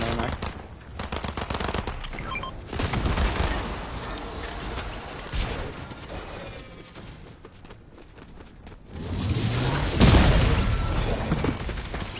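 Rapid bursts of shotgun and other gunfire in the video game Fortnite, loud close blasts in clusters with quieter stretches between, shattering debris and faint footsteps mixed in.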